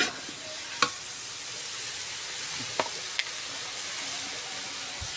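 Vegetables are stir-fried with ginger and garlic in a hot pan, giving a continuous hissing sizzle and a few sharp clicks of a spatula against the pan.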